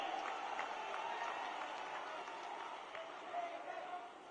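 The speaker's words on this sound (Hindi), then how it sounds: "सभी लोग ऐतिहासिक तालियों से राहुल जी का स्वागत करें" Sustained applause from a large crowd at a Congress party rally in Shajapur, Madhya Pradesh, welcoming Rahul: a dense steady wash of clapping mixed with distant cheering and murmuring voices, lasting the whole stretch without a break.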